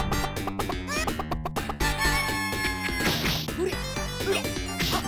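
Chickens clucking and crowing in the 1992 Hook arcade video game, squawks scattered over busy rhythmic game music and hit effects, loud and dense throughout.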